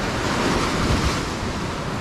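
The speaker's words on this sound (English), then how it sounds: "That is the Caribbean Sea." Caribbean Sea surf breaks on the shore, a loud, continuous wash of waves mixed with wind buffeting the microphone, with no voices.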